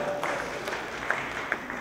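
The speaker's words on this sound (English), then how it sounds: "let's give our helper a hand" An audience applauds a helper, a steady, fairly close wash of clapping hands with a few sharper claps standing out, lasting under two seconds.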